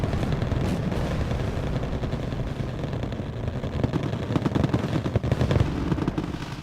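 Dense, continuous gunfire in the wargame Wargame Red Dragon, a loud rattling barrage of rapid shots and distant booms layered into one sustained roar of battle.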